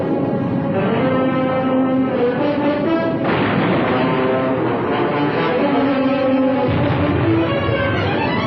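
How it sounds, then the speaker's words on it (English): Rockets fired by fighter aircraft in battle, from 1950 archival film: dense, loud rumbling blasts and roars continuing throughout, with a sharp surge partway through and layered tonal whines over heavy low noise. "The fighters lock on target, and rockets are fired."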